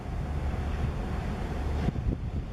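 Strong wind buffeting the microphone on a coastal cliff at Point Loma above the ocean, a loud continuous rumbling roar with a sharp gust near the end.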